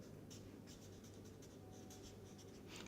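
Faint scratchy strokes of writing on a board during a mathematics lecture, a quiet irregular series of short marks against a steady low room hum, with no talking.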